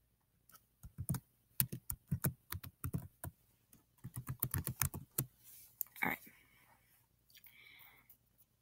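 Fingers tap out a password on a computer keyboard in quick bursts of close, crisp key clicks, with a short pause midway and a brief soft rustle near the end.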